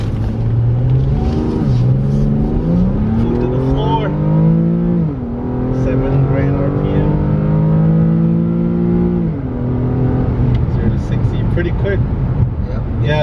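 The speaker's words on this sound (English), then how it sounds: "That all-wheel drive for sure gets up and go." Widebody all-wheel-drive Nissan 370Z pulling hard from a stop, its loud engine note climbing through several gear shifts with brief dips between pulls, recorded close from inside the car.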